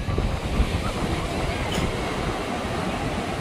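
Sea waves breaking on the shore one after another, a loud, continuous wash of surf roaring close by with heavy wind noise on the microphone.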